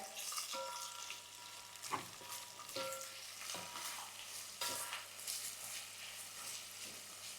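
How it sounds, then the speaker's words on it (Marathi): Thinly sliced onion sizzles steadily in a pan for masala pulao, a soft continuous frying hiss broken by occasional scrapes and stirring clatters, heard close and fairly quiet with no talk. "कांदा टाकला की गॅस थोडासा वाढवायचा आहे आणि आपल्याला कांदा चांगलासा नरम करून घ्यायचा आहे"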